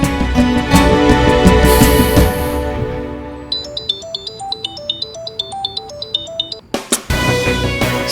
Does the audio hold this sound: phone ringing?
yes